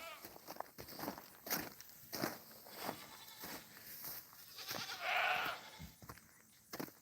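A goat on a farm bleats in a bright, drawn-out cry near the middle, amid scuffling footsteps and scattered soft knocks of livestock moving about nearby.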